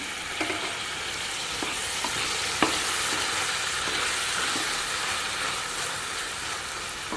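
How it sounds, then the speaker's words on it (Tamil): Ivy gourd and tomato sautéing in a pan for chutney give a continuous soft sizzle, with occasional stirring clicks and scrapes from a spoon. It stays steady and close throughout. "தக்காளியும் நல்லா வதங்கி வதக்கணும்"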